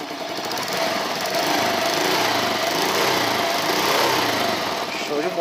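A motorcycle engine runs after a spark plug swap, holding a steady, continuous buzzing idle close by for several seconds without a break.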